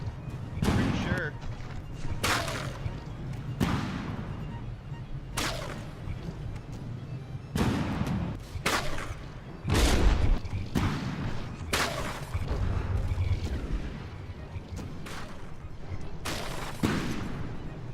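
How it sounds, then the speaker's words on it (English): Time-fused artillery shells fire and burst in a From The Depths naval battle, a series of sharp cracking reports and booms spaced a second or two apart over a continuous low rumble of combat. "I think those might be time fused shells."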